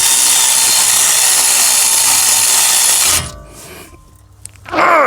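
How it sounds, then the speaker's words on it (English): Fast power ratchet tightening brake caliper bolts on a 2017 Ford Fusion during a pad and rotor job, a loud continuous whirring buzz that cuts off, followed by brief clicks and a second short burst. "Oh, I had my fast power ratchet here."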